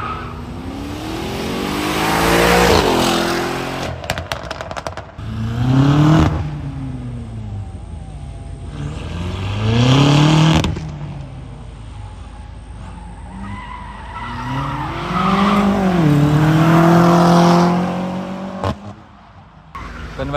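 A convertible Mercedes, not an AMG, is driven hard at an autocross event at a racing circuit. Its engine rises and falls through repeated bursts of squealing, skidding tyres, loud and near, with brief quieter gaps between runs.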